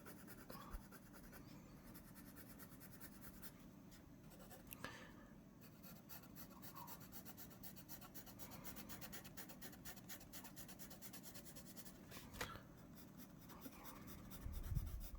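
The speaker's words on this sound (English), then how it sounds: "This is my favorite part of drawing tigers, is their" Pencil lead scratches across paper, sketching tiger stripes in quick, repeated strokes. The rasping is soft and close, with small pauses between marks and no speech.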